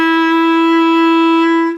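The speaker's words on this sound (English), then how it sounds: "F or F natural with thumb." A clarinet holds a single steady F natural, a bright clear tone sustained for under two seconds with even loudness before a quick release, close and alone.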